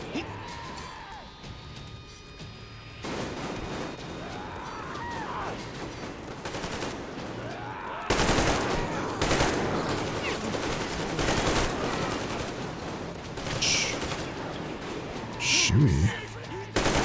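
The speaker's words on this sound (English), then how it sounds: "What are you guys shooting at?" Gunfire in the video game Metro Exodus, heard as sustained volleys of shots that grow louder and denser partway through, mixed with other game sounds.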